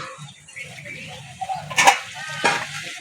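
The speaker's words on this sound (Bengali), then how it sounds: "আলুটাকে ভালো করে নেড়ে ছেড়ে নিয়েছি" Potatoes fry in a pan with a soft sizzle as a utensil stirs them, giving two sharp scraping strokes close up near the end.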